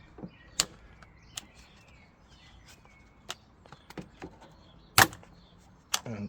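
The plastic fuel tank door flap on a Vauxhall Opel Astra J MK6 is worked open, making faint scattered clicks and sharp plastic snaps, with one louder snap near the end over a quiet background.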